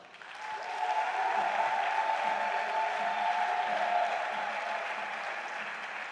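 A church congregation at a Sunday worship service breaks into sustained applause, a dense even roar of clapping that swells in after a moment and holds steady, with no one speaking over it.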